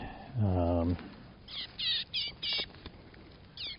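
A chickadee held in the hand for banding gives a run of short, sharp scolding calls, close and fairly loud, with brief pauses, over low background noise.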